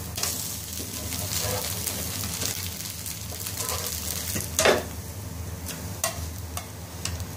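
A rava dosa fries in a pan, giving a steady crackling sizzle with scattered pops and one sharper hissing burst partway through, fairly close with no voices.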